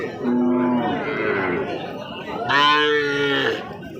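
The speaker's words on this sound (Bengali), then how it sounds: "নেপালি ক্রস জাতের দুইটা বাছুর" Two Nepali crossbred calves moo, nearby and loud: a short low call, a pause, then a longer, brighter bawl.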